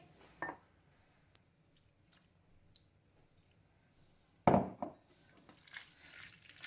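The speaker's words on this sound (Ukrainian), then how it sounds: "Розмішувати я буду рукою. Мені треба добре розмішати фарш." A hand mixing minced meat filling with a little water for belyashi, producing a few wet squishing and squelching sounds, close up, with quiet gaps between and a longer burst of squishing near the end.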